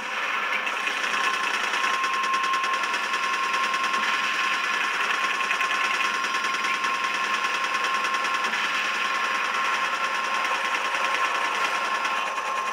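A mounted gun fires continuously in Resident Evil 4 Separate Ways, a steady rapid mechanical rattle of automatic shots that runs unbroken and loud for the whole stretch, with no voices over it.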